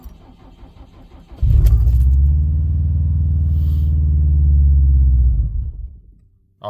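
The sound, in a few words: Subaru WRX STI on E85 cold starting, then dying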